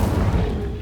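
A fire spell fires off in Hogwarts Legacy on PS5 as a short, loud, bassy explosive blast with a rumbling low end, lasting under a second.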